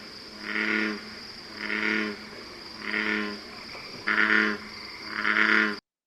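Bullfrog calls: five deep, resonant croaking bouts repeat at a steady pace against a constant high insect-like drone, fairly close and clear with no talking.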